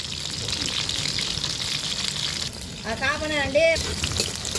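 Thinly sliced red onions fry in hot oil while being stirred, giving a steady close sizzle with scraping. A brief wavering, tonal voice-like sound rises over it near the end.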